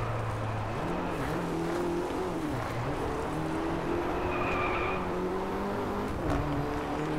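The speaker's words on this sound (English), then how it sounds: "Let's hear the engine sounds for a second." An Audi RS 5 races in the DriveClub video game. A steady engine drone rises and falls in pitch, with brief tyre skid squeals over continuous road noise and no talking.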